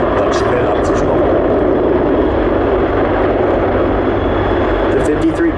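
A Sikorsky CH-53K King Stallion heavy-lift helicopter of the US Marine Corps roars steadily through a quick-stop maneuver at an airshow, loud and continuous rotor and engine noise filling the whole clip.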